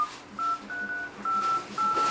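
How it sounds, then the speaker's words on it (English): Keypad dialing tones on an Asus Zenfone 6 Android phone, a quick series of short electronic beeps at an uneven pace, close and fairly quiet, with no talking. "when you dial a phone call, there's like a little bit of a noise, a tapping, there's a sound, and then also a little vibration"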